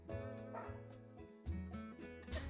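A female dog barks and yips repeatedly indoors, the bursts close and fairly loud with short pauses between them.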